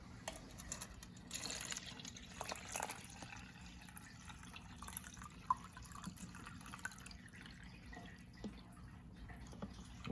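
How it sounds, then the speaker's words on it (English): Water is poured into a container holding an onion propped on toothpicks around its middle, a faint, steady trickle with soft drips heard close and alone. "Set it up like so, and fill it up with water."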